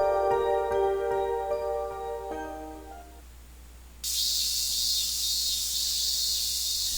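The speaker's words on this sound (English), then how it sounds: "cries of cicadas" Cicadas in summer: after a fading tonal passage, a sudden high, dense shrill buzz sets in and holds steady and loud.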